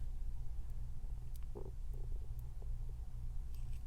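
A low gurgling stomach rumble under a steady low hum, with a brief bubbly burst partway through.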